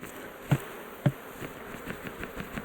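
Honey bees being shaken off a hive frame during a bee rescue and hive removal: two sharp knocks from the shake rise over a low, steady buzzing swarm close by.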